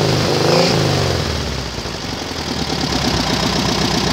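A mini buggy fitted with a Volkswagen Beetle engine idles loudly and close, with a steady, rough air-cooled putter and a slipping drive belt, running with no voices.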